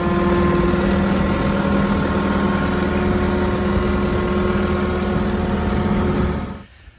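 A tractor engine idles steadily at close range, a loud, even, droning hum with a constant tone, then cuts off abruptly near the end.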